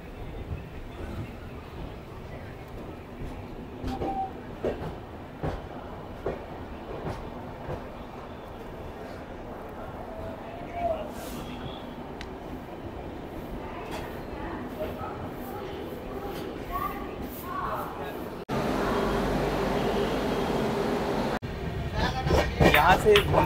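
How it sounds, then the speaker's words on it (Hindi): Durg-Puri Express rolling into Bhubaneswar railway station, a steady rumble of wheels and carriages throughout, growing louder and broader near the end as the train passes close, with occasional background voices. "फाइनली अपनी ट्रेन एंटर कर रही है भुवनेश्वर रेलवे स्टेशन में"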